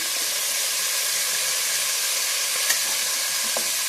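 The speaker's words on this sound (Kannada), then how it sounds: "ಟೊಮೊಟೊ ಹಾಕ್ಕೊತಾ ಇದ್ದೀನಿ" Chopped tomato frying in a pan for avarekalu pulao, giving a steady, loud broadband sizzle and hiss throughout, with a couple of faint clicks near the end and no voices.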